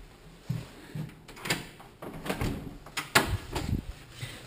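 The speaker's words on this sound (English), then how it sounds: "let's see if I can show you out the back door" A back door of a 1922 house opening, with several quiet knocks, rattles and thumps of handling spread across a few seconds, close by and with no talk.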